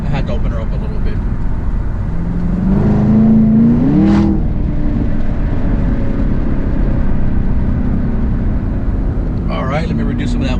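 A Chevrolet Camaro ZL1 1LE accelerates hard on a drive, its engine rising in a loud, close revving sweep that peaks and drops, then settles into a steady cruising drone with wind noise.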